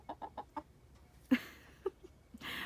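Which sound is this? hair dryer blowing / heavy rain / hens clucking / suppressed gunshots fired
hens clucking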